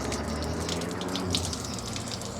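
Tap water runs steadily at a sink in a hotel, a continuous close gush of splashing flow that holds level throughout without pause.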